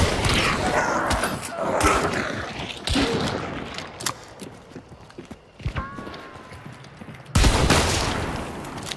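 Mosin rifle shots in the video game Hunt: Showdown, a few sharp cracks spread through a busy scene among footsteps and horse clip-clop, with a brief loud burst near the end.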